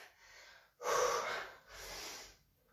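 Two heavy, forceful breaths rush out one after the other during a leg workout, the first sharp and strong, the second a little softer, close and with no talking.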